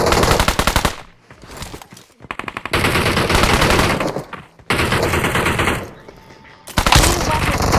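Automatic gunfire from a weapon in the mobile battle-royale game PUBG Mobile, rapid loud bursts several seconds long broken by short pauses, with faint game sounds between.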